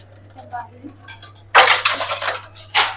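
Dishes are washed at home: soft voices talk at first, then loud, close clinks and clatters of pots and utensils come in bursts.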